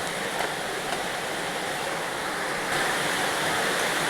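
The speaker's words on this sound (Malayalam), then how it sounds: "മഴ തകൃതിയായി പെയ്തുകൊണ്ടിരിക്കുകയാണ്." Heavy rain falls outside an Andaman island home, a steady, loud hissing roar filling the whole stretch without a break and with no voices.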